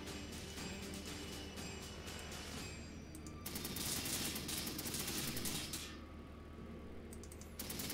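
Gunfire and battlefield clatter in the Warhammer 40,000: Sanctus Reach video game, a faint, dense wash of small crackling shots and mechanical rattles that swells briefly in the middle, with no talking.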